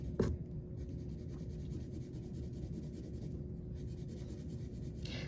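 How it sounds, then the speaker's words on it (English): Colored pencil shading and blending on paper, a steady close scratchy rubbing that runs continuously throughout with a brief sharper stroke at the start. "I'm going to go in with my colored pencil, and I'm going to go over it to blend so it is tinted with color."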